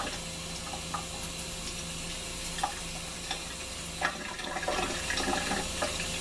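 Liquid pours into a pot of risotto on the stove, giving a steady watery rush and soft sizzle with a few stirring clicks, heard close and alone.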